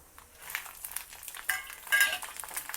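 Chillies and curry leaves fry in hot tempering oil with a steady, fairly quiet sizzle and crackle, brightening briefly at a few points. No one speaks.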